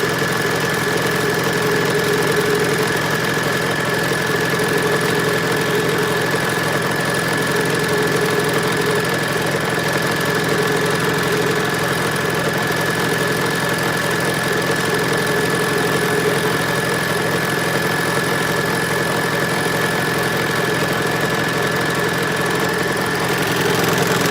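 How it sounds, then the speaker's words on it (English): A serger with its blade engaged sews and trims a maxi skirt seam, giving a continuous, loud mechanical hum and rapid chatter that stays even throughout with no talking. "And you don't backstitch on a serger"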